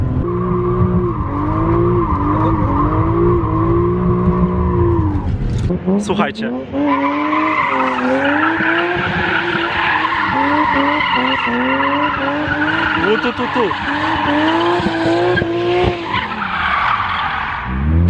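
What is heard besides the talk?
car tires skidding while drifting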